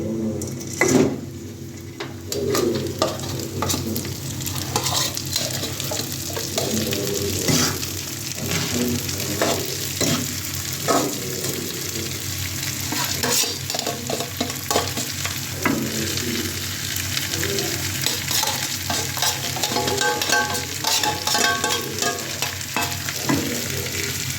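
Washed and drained masoor lentils frying in oil in a pan, a dense sustained sizzle with frequent scraping stirs and utensil clicks, close and steady for the whole stretch without talk.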